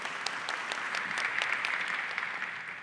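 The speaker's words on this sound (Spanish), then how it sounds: "un fuerte aplauso para ella." An audience at a church talk claps loudly for a guest, a dense, even burst of applause that holds for about three seconds.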